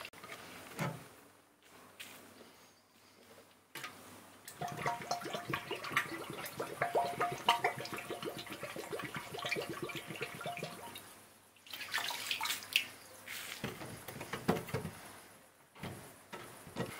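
Water splashing and trickling in bursts as it is drawn from a garden rain barrel, with pauses of near silence between, close by and moderately loud.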